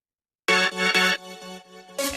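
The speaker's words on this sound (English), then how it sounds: "my favorite part, this organ here, which is super cool" An organ plays in the drop of an EDM track, rich sustained chords stabbing in a rhythmic pattern of short loud hits and held notes after a moment of silence.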